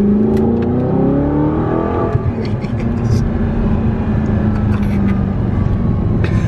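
Audi R8 fitted with an aftermarket IPE exhaust, its engine note climbing steadily then settling into a loud drone, close by, with voices talking over it.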